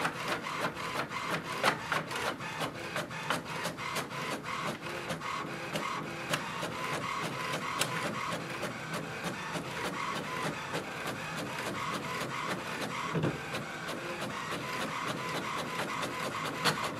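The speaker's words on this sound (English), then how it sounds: "So it has printed the welcome sheet." An HP Envy 6452e printer printing a welcome sheet: a steady, close mechanical whir with rapid rhythmic ticking from the paper feed and print head, running continuously without speech.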